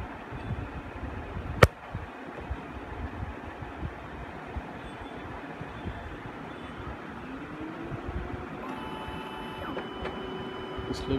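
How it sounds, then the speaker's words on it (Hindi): A Ricoh SP 310 SFN printer with an SC542 error is switched off and back on: a sharp click, then a steady mechanical hum and whir as it restarts, with faint beeping tones later on. "जो प्रिंटर को कर लेना है बंद, बंद करने के बाद तुरंत ऑन करना है"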